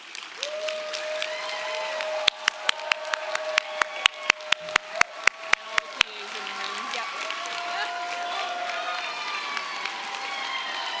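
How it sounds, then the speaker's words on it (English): An audience at a physician assistant white coat ceremony applauds, a sustained crowd clapping with sharp, evenly spaced claps standing out midway as voices cheer and call out over the noise. "Yes, big round of applause."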